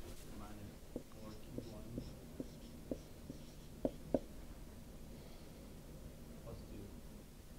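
Pen or pencil scratching on paper while a calculation is written out by hand, soft irregular strokes and taps under a steady hiss, faint and close.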